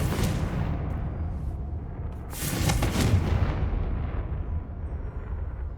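A Confringo blasting spell explodes in Hogwarts Legacy, a loud booming burst partway through that rises over a steady, dense rumble and then slowly fades.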